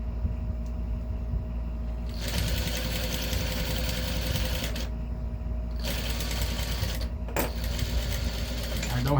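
A sewing machine stitches a fabric manicure bag in bursts of rapid mechanical whirring separated by pauses, close and moderately loud over a steady low hum, with a brief click between runs.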